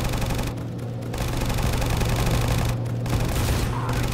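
Tower gunfire in Roblox Tower Defense Simulator: dense, continuous rapid shooting at steady loudness under a low humming drone for the whole few seconds, with no talk.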